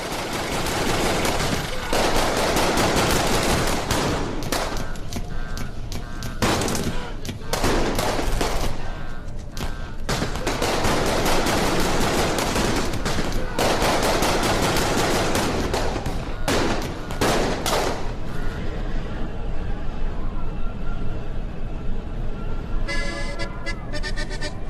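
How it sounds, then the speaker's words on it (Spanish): Dense, sustained gunfire from several armed shooters firing at a car from a nearby building: loud rapid bursts and volleys that overlap almost without pause, thinning briefly near the end. "Varias personas armadas dispararon indiscriminadamente"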